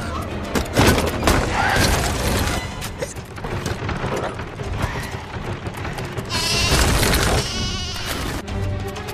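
Sheep bleat repeatedly and loudly amid a chaotic scene with crashing, clattering noises in a Turkish-dubbed dragon-hunter cartoon, several overlapping calls close by.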